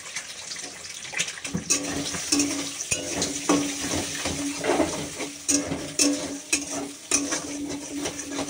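Eggs frying in hot oil in a wok, a steady close sizzle with repeated scraping and stirring clatters of a spatula against the pan throughout.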